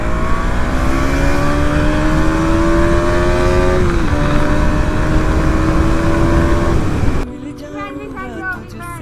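A KTM Duke 200 motorcycle engine revs loud and close, its pitch climbing steadily in sustained pulls for several seconds before cutting off abruptly, leaving quieter background sounds.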